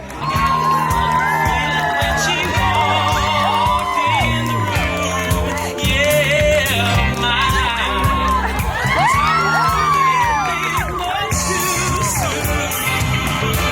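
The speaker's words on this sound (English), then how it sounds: "Big round of applause for Romeo and Angela." Loud crowd celebrates a couple, Romeo and Angela, with sustained cheering, whoops and high shouts over clapping, swelling in waves.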